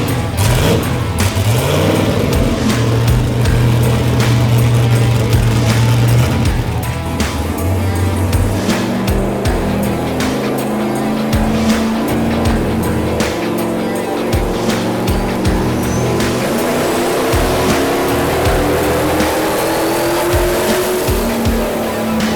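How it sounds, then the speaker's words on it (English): A loud, roaring drag car engine revs hard and steadily on a dyno, its pitch climbing in a long sweep toward the end, with no talking. "Hopefully Beer Money survives its first dyno run."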